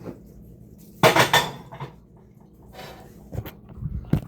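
A frying pan being handled for cooking burgers, with a sharp metallic clatter and rattle, then quieter clinks and a final knock, all close by.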